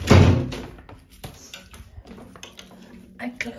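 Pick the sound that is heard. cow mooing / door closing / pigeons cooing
door closing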